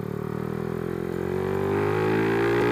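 A modified carbureted Suzuki Satria FU motorcycle engine hums while riding, its pitch rising gradually as it accelerates, close and steady.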